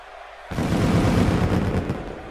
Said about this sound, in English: And the fireworks go off,